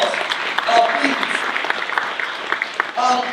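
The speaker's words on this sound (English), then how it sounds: "Give Tara and Sharena a huge round of applause, please." An audience at the 4th annual Green Tie Gala in 2024 breaks into warm, continuous applause, a bright crackle of many hands close by, with scattered voices and cheers mixed in.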